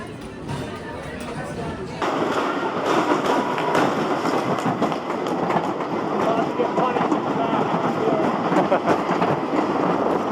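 Bluestreak, a wooden roller coaster at Cedar Point, rattles loudly along its track after a quieter start, a dense continuous clatter of wheels with riders chattering and shouting under the roar.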